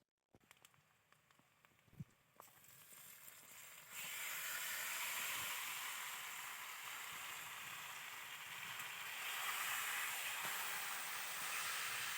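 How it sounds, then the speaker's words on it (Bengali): Chicken meat frying with onions in a pan for a Bengali chicken and potato curry. Faint handling knocks come first, then a steady, loud sizzle and hiss swells in and continues to the end. "এই পেঁয়াজের সঙ্গে মাংসটা ভালো করে কষিয়ে নিতে হবে।"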